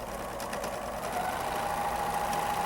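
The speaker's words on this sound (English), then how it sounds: "And then we'll serge this piece together." A serger stitching fabric pieces together for a baby quilt, a steady close mechanical whir that holds an even pitch throughout without pause.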